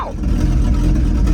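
Freshly fired after decades sitting, an old Chevy C10 truck engine runs loud and near with a rough, steady low rumble, alone without talk.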